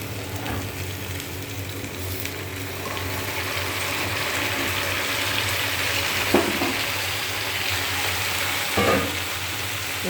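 Chopped vegetables and onion sizzle in hot oil in a small kadai, a continuous close frying hiss with a couple of brief stirring knocks.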